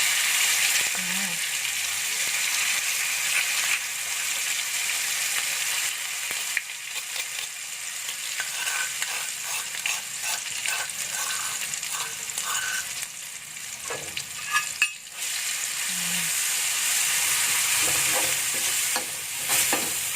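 Ground spice paste frying in a pan for sambal goreng kentang hati, a steady loud sizzle with stirring scrapes and some faint background voice, continuing for the whole stretch.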